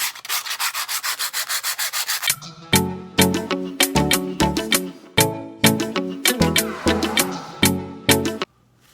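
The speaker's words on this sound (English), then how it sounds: "So what you want to do is you just want to kind of gently sand it down." Sandpaper rubbing over a resin pen, first a quick, even series of short strokes, then louder, longer scrubbing passes in an irregular rhythm, close up and alone.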